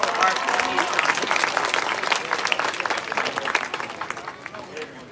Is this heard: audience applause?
yes